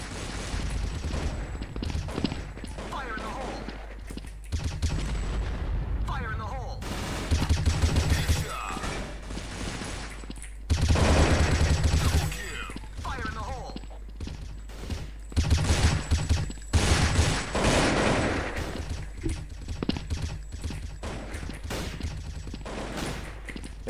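Dense, continuous gunfire from a shooting video game, with rapid bursts and fusillades running nearly the whole time, several louder volleys standing out, mechanical clanks in between, and a voice talking at moments underneath.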